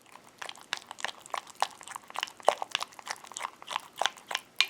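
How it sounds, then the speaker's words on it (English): A spoon stirring potted meat in a dish makes repeated wet, squelchy scrapes and sticky crackles in an uneven rhythm, close and fairly loud, growing sharper toward the end. "The sound of this stirring is disgusting."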